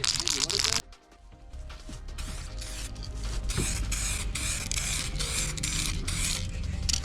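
Rapid rattling and hissy shaking of spray paint cans continues in quick rhythmic bursts after a brief pause near the start.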